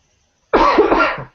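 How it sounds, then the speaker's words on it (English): A single harsh cough, loud and close, bursts out after a moment of silence and trails off within a second. "sorry about this coughing"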